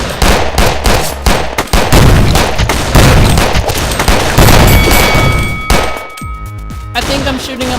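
Dense, continuous gunfire from the video game Zombie Grinder as zombies are shot, rapid overlapping bursts with booms and clangs, loud and sustained, tapering near the end into quieter game sounds.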